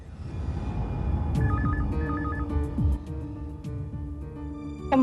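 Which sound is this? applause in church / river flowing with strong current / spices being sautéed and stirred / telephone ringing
telephone ringing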